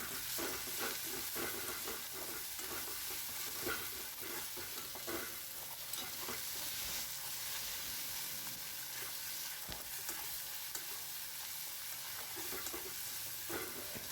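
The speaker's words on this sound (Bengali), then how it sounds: "ডালটা বেশি ভাজবো না হালকা ভেজে নেব" Lentils fry lightly in a pan with a continuous crackling sizzle and frequent small scraping stirs, steady and moderately close throughout with no talking.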